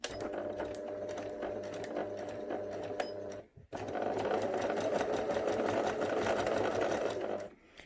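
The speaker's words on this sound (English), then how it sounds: "I'm going to do a few stitches backwards, which will just go off the edge of the fabric before I sew forwards" A sewing machine stitches fabric in a fast, rhythmic whir, briefly stopping mid-way for a reverse backstitch before resuming a steady run, close and loud with no talking.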